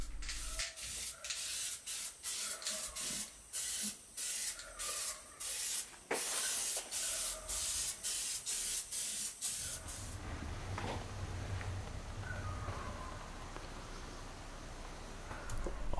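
Protective coating is sprayed onto an Audi 200 Quattro wing during restoration in repeated close, hissing bursts with short pauses between them. After about ten seconds the spraying stops and only faint background noise remains.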